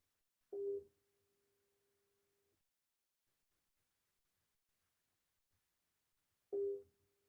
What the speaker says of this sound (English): I'm dialing him right now.